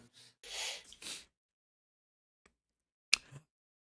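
A single person sneezes, a short breathy burst preceded by a couple of quick intakes of breath, close and alone in otherwise quiet surroundings.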